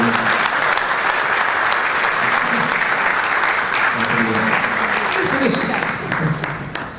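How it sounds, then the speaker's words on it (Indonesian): Audience applause at a young entrepreneurs seminar, sustained dense clapping filling the room for several seconds, loud and close, with a speaker's voice faintly underneath and the clapping thinning toward the end. "Tepuk tangan untuk yang"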